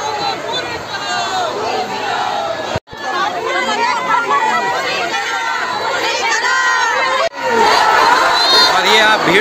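A large crowd gathers at a public rally in Karnaprayag demanding a hospital, filling the air with loud, continuous chatter and overlapping voices, with shouts and children's cries rising from the dense babble close by.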